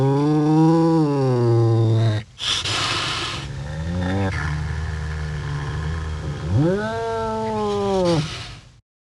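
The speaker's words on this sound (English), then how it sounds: "The cheetah's bark is not as strange as the sound a wildcat makes." A wildcat gives long, drawn-out yowling calls, strained and tonal, separated by a harsh breathy snort, loud and close with no other sounds.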